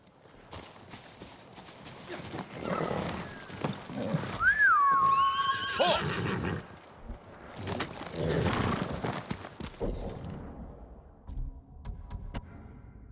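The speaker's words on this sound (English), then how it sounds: "Horse!" In Ghost of Tsushima, a horse gives a loud, close whinny with a falling squeal, mixed with hoofbeats and game effects around it, then a second burst of movement and clopping.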